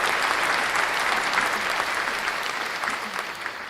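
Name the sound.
applause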